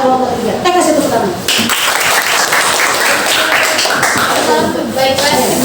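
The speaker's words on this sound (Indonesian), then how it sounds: "Kelompok 3. Kasih tepuk tangan." A classroom group claps for group 3, a dense burst of applause from many hands filling the room, with voices talking underneath.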